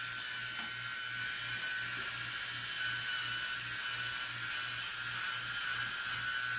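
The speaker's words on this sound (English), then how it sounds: "It's a trimming function to trim down some of the bulk here." A Bell and Howell TacShaver electric trimmer cuts thick stubble with a steady, fairly quiet high buzzing hum and a low pulsing motor throb, continuous throughout with no talking.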